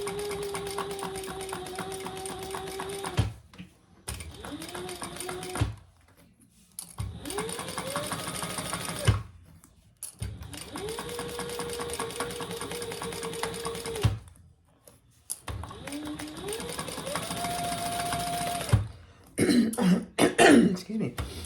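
A sewing machine runs in several bursts while stitching a canvas clutch, its motor whirring up and holding a steady pitch before stopping, with short silent pauses between runs and a cough near the end.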